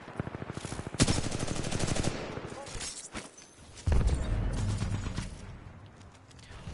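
Assault rifle fire in Titanfall 2, steady rapid automatic bursts that rattle on for about a second, then stop and start again, with loud booms and someone talking underneath.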